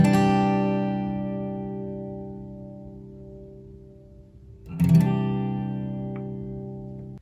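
Two full strums across all strings of a guitar in a beginner lesson: a bright chord rings out and slowly decays, then a second strum hits near the end and sustains, close and alone.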